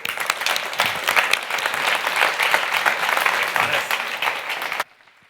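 An audience at a carbon removal conference claps steadily to welcome a speaker on stage, with dense, loud sustained applause for about five seconds before it cuts off abruptly.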